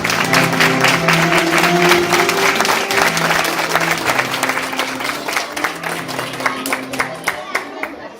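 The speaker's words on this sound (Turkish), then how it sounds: "tüm masal kahramanlarımıza Kocaman bir alkış." An audience at a primary school reading festival gives a loud round of clapping for young performers, with crowd noise and chatter mixed in as the clapping gradually thins out.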